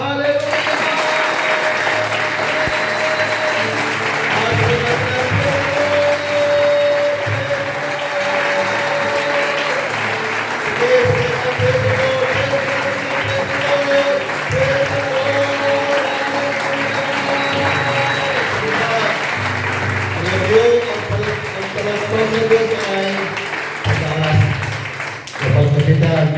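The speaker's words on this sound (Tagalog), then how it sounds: "i-alay natin sa Diyos ang pinakamalakas na palakpak" A youth convention audience gives long, loud, continuous applause, a dense wash of clapping lasting over twenty seconds, with shouts and voices mixed in throughout.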